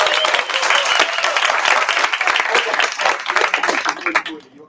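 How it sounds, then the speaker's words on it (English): Audience at a startup demo night breaks into steady applause, a dense wash of many hands clapping at close range that fades out at the end. "Okay, so you remember that whole clapping thing?"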